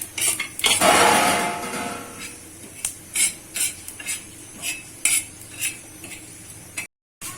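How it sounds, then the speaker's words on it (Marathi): Coriander seeds dry-roasting in a pan, stirred with a metal utensil that scrapes and clinks in short irregular strokes, with a faint crackle after an initial louder rush. "धने पण आपण भाजून घेणार आहे."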